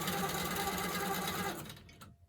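A longarm quilting machine stitches in regulation mode, giving a fast, even mechanical whir that runs steadily, then winds down and stops near the end.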